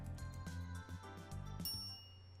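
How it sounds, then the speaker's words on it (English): A soft bell-like chime sounds as an elevator arrives at the fifth floor, a faint clear ding over a quiet music bed. "A chime signals our arrival on the 5th floor."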